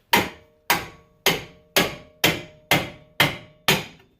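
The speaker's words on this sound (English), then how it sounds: "grab your pickle fork and start whacking away" Eight sharp, ringing metal strikes as a hammer drives a pickle fork to split a tie rod end from the steering knuckle of a 1997-2005 Chevrolet Malibu, evenly spaced about half a second apart, close and loud, each decaying quickly, with no voices.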